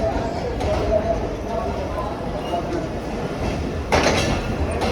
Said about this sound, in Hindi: ये 127 अब मेहर express 26 down Bahauddin Zaki express का रेक आ गया